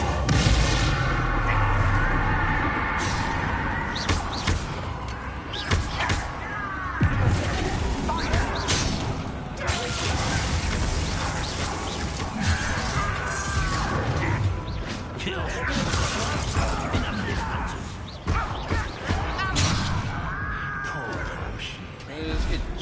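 Bombarda blasting spells going off in the video game Hogwarts Legacy, with repeated loud booms, crashes and whooshes amid a constant din of battle, under occasional voices.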